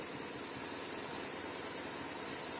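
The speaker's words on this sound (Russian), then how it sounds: "Шум из коробки на прогретом." A BMW R 1200R motorcycle, warmed up, runs with the clutch released while its gearbox makes a steady whirring, rattling noise over the idling engine, continuous and close, with no talk.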